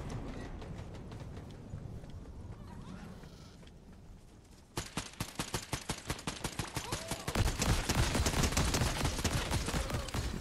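Rapid gunfire in the Fortnite battle royale, steady bursts of shots that grow louder and denser partway through, fired at an opponent amid game sounds and faint voices.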